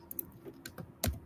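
Typing on a computer keyboard during a data visualization class: a handful of scattered key clicks, with one heavier keystroke near the end, fairly close and quiet with no talk.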